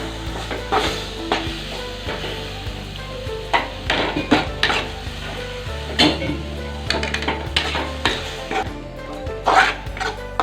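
A mixture thinned with a little water is stirred in a cooking pot. A spoon scrapes and knocks against the metal in uneven strokes and clinks, with faint background hum and no speech.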